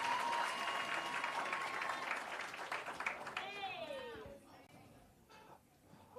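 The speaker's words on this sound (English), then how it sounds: "One more time, ladies and gentlemen," Applause from a workshop and expo audience, clapping mixed with crowd chatter and cheering voices, loud at first and then fading as talk takes over.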